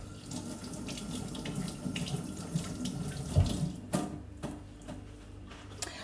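Tap water runs steadily into a sink while Thai chilies are rinsed, a continuous soft splashing hiss with a few sharper knocks and clatters scattered through it.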